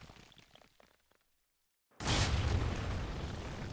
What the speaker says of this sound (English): Did I just land in an explosion?